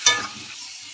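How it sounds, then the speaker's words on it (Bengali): Pumpkin and potato pieces frying in a pan with chilli powder and salt, a brief scrape of stirring at the start then a soft, steady sizzle, close and alone. "কুমড়োর আলুটা ভালো করে ভেজে নেব।"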